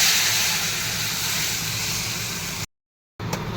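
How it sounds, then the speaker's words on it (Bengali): Mustard gravy boiling hard in a pan gives a steady, loud, broadband hissing sizzle that runs without a break, then cuts to silence for a moment before faintly resuming. "চলো আমার সর্ষের ঝোলটা এখানে ফুটে উঠেছে"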